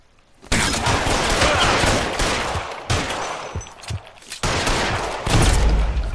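Dense, sustained gunfire fills a shootout in L.A. Noire, with overlapping rapid shots and bursts running almost without pause, briefly dipping twice before resuming loud and close.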